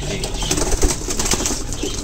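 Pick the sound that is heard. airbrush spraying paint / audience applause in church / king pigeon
king pigeon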